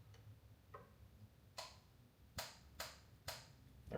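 Torque wrench tightening the oil drain plug bolt to 25 Nm on a BMW F80 M3 track car, faint ticking then several crisp, evenly spaced clicks, close by and alone.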